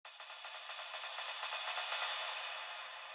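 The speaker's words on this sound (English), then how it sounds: "So the next thing we have is this little crash sample, which sounds like this." A crash cymbal sample for a tech house track rings out alone as one bright, hissing wash that sustains for about three seconds, then thins and fades.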